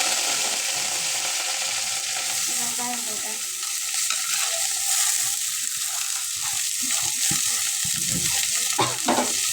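Mustard seeds and curry leaves crackling in hot oil, a bright continuous sizzle with scattered pops and a stirring scrape near the end, close and loud, no talking.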